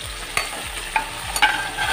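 Ginger and garlic fry in a pan for a fresh cashew nut fry, a soft continuous sizzle punctuated by three or four quick clicks and scrapes of stirring.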